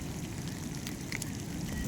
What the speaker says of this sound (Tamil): செம்மையாக மழை பெஞ்சிட்ருக்கு. ஏகப்பட்ட மழை பாருங்கள்.